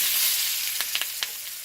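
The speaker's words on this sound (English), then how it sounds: "Okay, this has been sizzling for a few minutes." Pork chops pan-seared in a hot pan give a soft, steady sizzling hiss. A few faint crackles and pops rise over it, close and alone.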